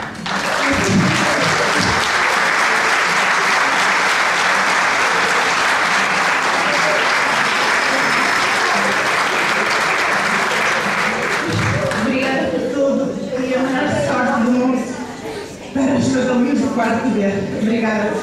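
Graduating finalists receive a long, loud round of audience applause at a ceremony, dense clapping sustained throughout with a brief dip near the end before rising again.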